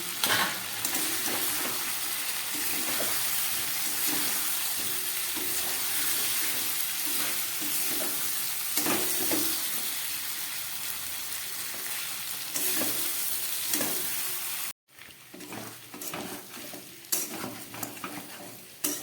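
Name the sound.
fried potatoes and pointed gourd stirred into spices in pan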